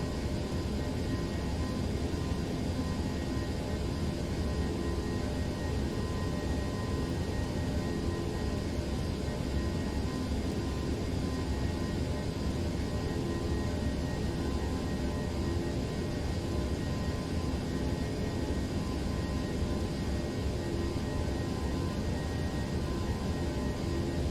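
Toliss Airbus A321 jet engines at climb thrust in X-Plane 11, a steady, loud broadband roar with a low rumble that holds unchanged throughout, with no talking.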